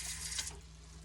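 Water is poured into pan gravy for hamburger steaks with onions, giving a brief splashing pour that soon fades into a low simmer.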